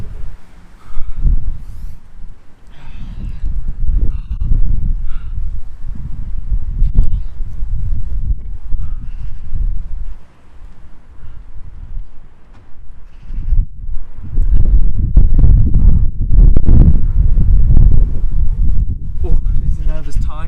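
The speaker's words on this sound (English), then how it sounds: "The gust has subsided now" Outdoor wind gusts buffet the microphone with heavy low rumbling that comes and goes in surges, briefly dropping out and then swelling strongly again toward the end.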